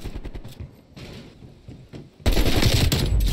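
AK-47 rifle fire in Call of Duty Black Ops Cold War, with scattered shots early and then a loud, sustained automatic burst filling the second half.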